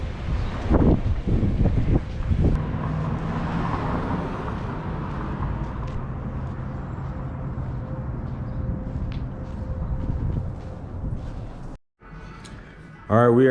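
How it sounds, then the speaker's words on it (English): Strong outdoor wind buffets a microphone with a heavy, continuous low rumble while a person talks over it. The sound cuts out abruptly near the end before picking up again. "It's windy out here"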